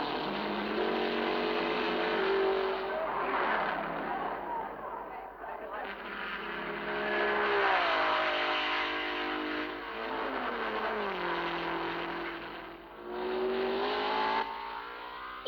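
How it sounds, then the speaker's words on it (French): Ferrari race cars at the 1959 24 Hours of Le Mans roar past in waves, engines rising and falling as they approach and recede, heard under French commentary. "la Ferrari numéro 14 de Hill, Jean Debien"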